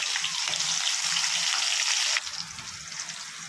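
Chopped onions and green chillies frying in a pan for a mutton blood fry, a loud continuous hissing sizzle close by that eases slightly partway through, steady with no voices.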